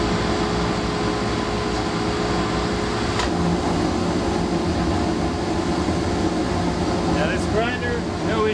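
Oneida dust collector running with strong suction, a steady loud broadband roar with a constant hum throughout and a few brief clanks near the end.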